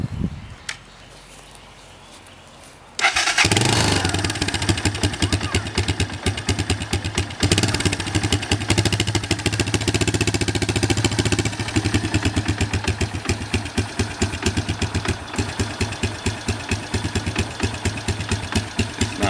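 A cold 1987 Honda Fatcat engine is cranked and catches after a few quiet seconds, then runs in a loud, close, rapid and slightly uneven idle chug that carries on steadily with no talk.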